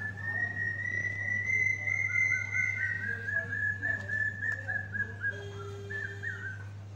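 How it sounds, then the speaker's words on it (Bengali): Birds calling outdoors near a temple during a Manasa puja, thin whistled notes held and sliding over a steady low hum, moderately close and continuous for several seconds. "তোমাদের পাখির ডাকটা শোনানোর জন্য"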